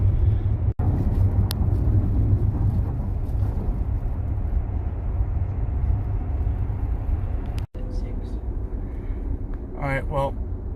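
Constant low road rumble inside a Tesla car towing an RV trailer, a dense steady drone throughout with a brief voice near the end.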